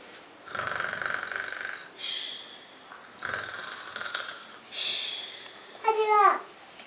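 A voice imitates a bear snoring, with four slow, breathy rasping snores in an even rhythm followed by a short squeaky vocal flourish, close and fairly soft.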